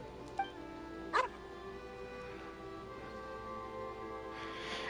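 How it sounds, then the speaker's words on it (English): A dog in the video game Genshin Impact gives a couple of brief, soft yips over a quiet, steady in-game ambience. "Is this your dog? It's very cute."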